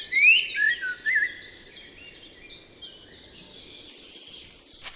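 A blackbird sings a sequence of clear, fluting phrases. The song is loud and close at first and then continues as softer, scattered notes over a faint background hiss.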